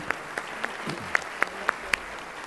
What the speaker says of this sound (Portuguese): Nossos aplausos aos participantes do segundo bloco.